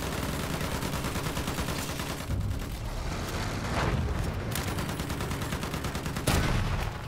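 Dense gunfire from the Battlefield 1 video game forms a constant loud barrage of rapid rifle and machine-gun shots with heavier blasts, with no break for the whole stretch.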